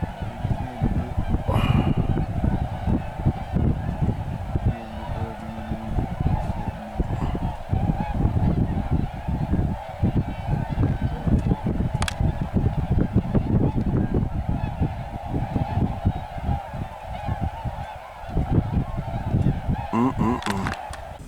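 A flock of snow geese flies in over a North Carolina hunting field, dense overlapping honking calls continuing steadily and loudly throughout, some near and some farther off.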